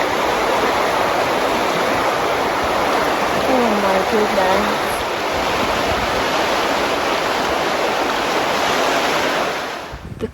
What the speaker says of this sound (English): Okay, this is what the river's looking like.